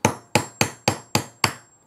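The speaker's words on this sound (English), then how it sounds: "So get a hammer." A hammer strikes wood to texture a box surface, six sharp, evenly spaced blows close up, each one ringing out briefly before the next.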